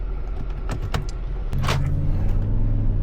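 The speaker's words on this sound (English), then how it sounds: "you heard those door lock actuators working?" Door lock actuators on a Mercedes G55 AMG fire in a few quick mechanical clunks and clicks, close and loud, over a steady low engine idle that grows slightly louder partway through.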